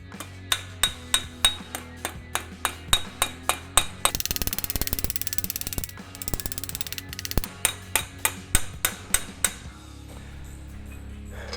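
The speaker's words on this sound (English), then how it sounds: "actually hammer on the flange side to try to smooth it back out" Sharp hammer blows ring on a sheet metal flange in a steady rhythm, broken by a quick flurry of rapid taps, then steady strikes again.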